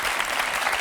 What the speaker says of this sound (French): Mais on peut l'applaudir très fort.